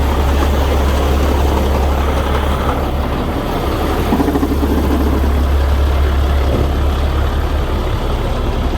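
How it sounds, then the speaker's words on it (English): A 2006 Sterling LT 7500 Vaccon hydro excavation truck with a PTO-driven 12-yard debris dump rumbles close by, its heavy engine holding a steady, loud low drone for the whole stretch. "Go ahead and do the dump. Activate dump."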